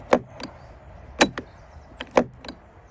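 A greased spring in a Hymer Eriba motorhome habitation door lock snaps back repeatedly, making sharp close metallic clicks and clacks in three quick pairs.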